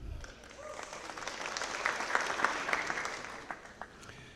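Steady applause from a high school scholarship night audience, a dense wash of clapping that continues evenly throughout at moderate distance.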